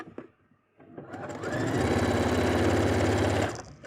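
A sewing machine runs a continuous half-centimetre stay seam joining two fabric layers of a bustier, starting after a few soft handling clicks and whirring steadily at close range for about two seconds before stopping.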